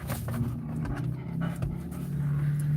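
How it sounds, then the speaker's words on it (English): Inside a moving car, a dog pants steadily and close by, quick rhythmic breaths over the low, constant hum of the vehicle. "she loves riding with us so much, and she's such a pretty puppy"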